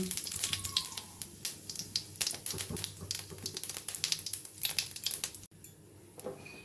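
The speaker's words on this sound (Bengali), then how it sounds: "প্রথমে কড়াইতে তেল গরম বসিয়ে দিয়েছি, দিয়ে দেবো জিরে ফোড়ন।" Cumin seeds crackle and spit in hot oil in a kadai, making close, sharp, irregular pops over a light sizzle. It drops to a quieter hiss near the end.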